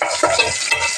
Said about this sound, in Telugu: తరిగి పెట్టుకున్న ఉల్లిగడ్డ, కొద్దిగా కరివేపాకు వేసి ఫ్రై అవ్వనివ్వాలి.